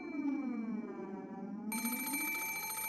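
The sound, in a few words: telephone ringing in the video game Umineko no Naku Koro ni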